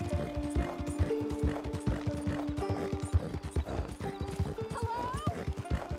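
Rapid rhythmic hoofbeats of a horse galloping in Red Dead Redemption 2, with game-like effects and a faint whinny, continuous and fairly close, no talking.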